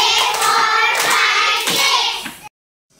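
A group of people claps hands at a birthday party, a dense burst of loud applause that cuts off suddenly into silence.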